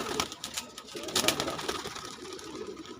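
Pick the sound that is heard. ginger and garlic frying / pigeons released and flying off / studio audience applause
pigeons released and flying off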